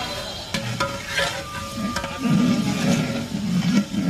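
Onions frying in mustard oil in a large pot for a big batch of khichuri, stirred steadily with a utensil; a continuous close sizzle with rhythmic scraping strokes that swell louder midway.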